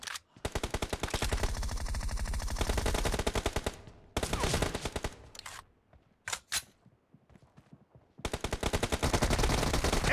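Rapid bursts of UMP9 submachine gun fire from the mobile shooter BGMI during a 4v4 room match, loud and close, with long rattling strings of shots broken by brief pauses and a few isolated single reports.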